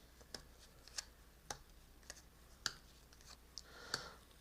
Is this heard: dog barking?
no